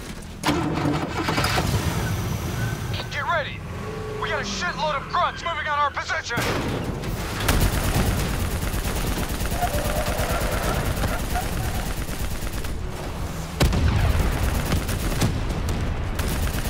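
Heavy gunfire in Call of Duty: Black Ops 3 from a turret on a moving vehicle, fired at a VTOL: loud, dense and sustained bursts with engine rumble, briefly broken by voices shouting over the din.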